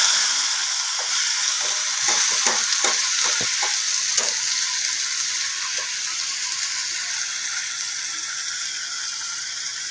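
Onion, green chili, garlic and ginger paste with bay leaf frying in hot oil, a steady loud sizzle throughout, with a few scraping stirs of a spatula early on.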